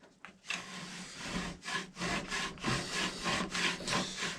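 Wooden ramrod being worked back and forth and scraped inside a rifle's channel to fit it, giving a rhythmic series of close, dry rasping strokes, roughly two or three per second, with no speech.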